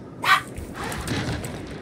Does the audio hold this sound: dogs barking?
yes